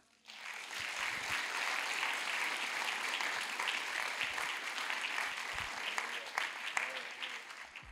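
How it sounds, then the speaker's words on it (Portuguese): Sustained applause from a church congregation fills the room, steady and loud for several seconds, with faint voices mixed into the clapping. "Aplauda o nome do Senhor."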